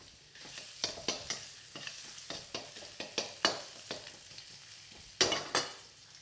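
Ginger tossed into a smoking hot wok for stir-fried mustard greens sizzles steadily while a utensil scrapes and clacks against the metal in sharp, irregular strikes, with two louder hits near the end.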